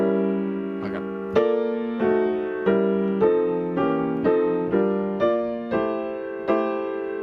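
Jazz piano chords in drop 2 voicings move through a bossa nova bridge, struck one after another in a steady rhythm, each ringing warmly before the next change.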